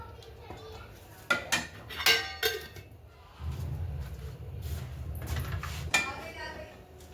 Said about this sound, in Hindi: तो मैं डालूंगी इसमें पहले देसी घी